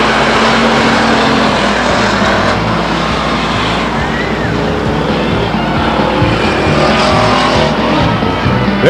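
Stock race cars at Stockton 99 Speedway, engines roaring loudly and continuously with occasional tire squeal, close and dense throughout, under a faint announcer-like voice.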